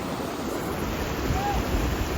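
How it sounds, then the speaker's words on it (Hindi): A steady, full rush of a waterfall at Thajiwas Glacier in freezing cold roars without pause, broad and constant, with a faint breathy edge of wind over it. "वाटरफॉल देखो,"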